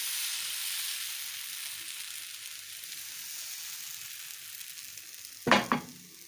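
Steady sizzling of pancake batter with hard cheese frying in a hot pan, a constant bright hiss, interrupted near the end by a brief clatter of a utensil.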